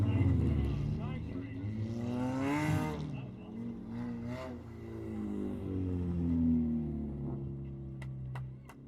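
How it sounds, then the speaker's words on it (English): A race car rounds turn 4 at Putnam International Raceway, its engine droning and rising in pitch as it passes fairly close, heard under a continuous announcer's voice over the track loudspeaker. "As he comes down through turn 4, grabbing his first ever win at Putnam International Trailway, the AC4 of Alex Seifer."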